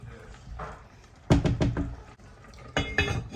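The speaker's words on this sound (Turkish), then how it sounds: "Kapağını kapatayım." A pot lid clattering and being set down on a cooking pot, a few metallic knocks and rattles in two bursts against quiet kitchen background.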